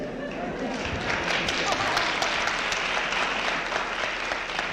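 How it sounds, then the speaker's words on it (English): Applause from a lecture audience, dense steady clapping of many hands at moderate distance, continuing evenly throughout without a break. "Why do you clap?"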